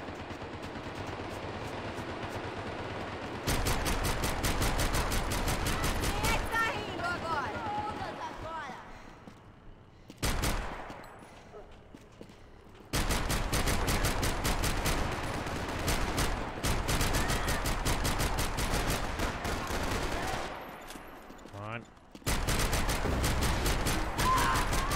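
Rapid bursts of automatic gunfire and shots from a Max Payne 3 multiplayer free-for-all or team deathmatch, loud and dense, broken by a few brief lulls and mixed with game sound and occasional talk.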